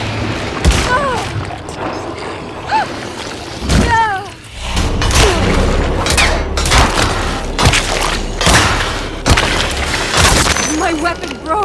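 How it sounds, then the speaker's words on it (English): In Alone in the Dark, a weapon breaks during a fight with repeated loud wooden smashes, splintering cracks and heavy thuds, mixed with voices and grunts throughout. "My weapon broke!"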